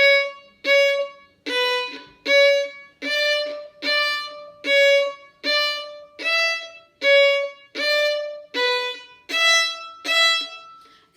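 A violin plays martelé bow strokes, about a dozen evenly spaced, accented notes, each bitten at the start and cleanly stopped.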